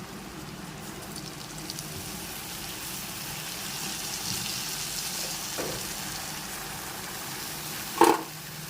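Turmeric-rubbed banana flower fries in a pan with panch phoron, giving a soft, continuous sizzle at low level with a brief louder clink near the end.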